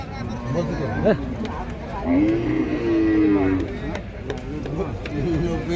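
A cow lets out a long low moo, close and loud, amid people talking and scattered thumps of a busy cattle market.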